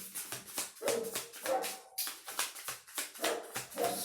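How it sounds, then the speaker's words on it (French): A large pet dog barks repeatedly indoors, a steady series of sharp yips and barks with occasional whimpering tones, fairly close and loud, with no talking over it. "j'ai mon gros bébé qui aboie là"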